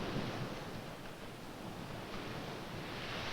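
Surf breaking onto a gently sloping sandy beach at low tide, a steady broadband wash of waves rolling in from deeper water, continuous and fairly even with no voices.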